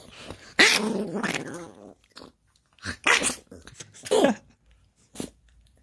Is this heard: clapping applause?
no